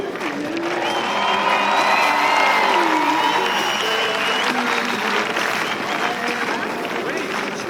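Rodeo crowd at an outdoor equestrian festival in Saint-Agrève, applauding and cheering steadily, with a sustained wash of clapping and a few whoops over a blurred layer of voices throughout.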